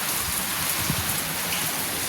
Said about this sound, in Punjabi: ਬਾਰਿਸ਼ ਲੱਗ ਰਹੀ ਲੱਗੀ ਜਾਂਦੀ